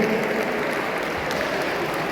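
An audience claps steadily at a Republic Day celebration, a dense, loud, continuous wash of applause from many hands with no break.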